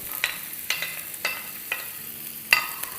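Sliced red and green bell peppers and onion sautéing over high flame in a pan, a soft steady sizzle punctuated by several sharp scraping stirs of a spoon against the metal.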